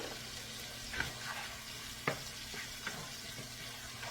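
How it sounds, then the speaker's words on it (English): Minced garlic frying in a pan for a meatball pasta sauce, a soft, quiet sizzle with a few sharp taps and scrapes of a spoon against the pan. "Now I'm going to add another good tablespoon of minced garlic."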